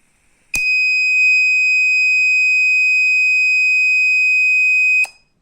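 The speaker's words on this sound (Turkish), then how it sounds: "Buzzer alarm verdi." A loud, steady electronic buzzer alarm from an Arduino gas leak detector sounds alone, holding one piercing tone for about four and a half seconds before cutting off abruptly.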